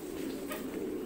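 Pigeons cooing on a pigeon farm in Chuong My, Hanoi, a brief, low murmuring coo over steady bird noise nearby.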